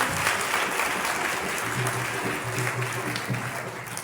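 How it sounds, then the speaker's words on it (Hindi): Loud, steady applause from a church congregation at an evangelist's service, a dense continuous patter of many hands with a faint low hum beneath. "जोरदार तालियां बजाएं खुदावंद के लिए।"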